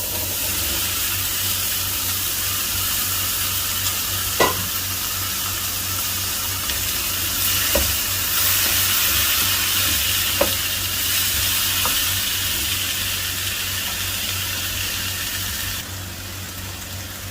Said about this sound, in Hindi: तो अभी मैं इसमें चने शामिल कर दूंगा उबले हुए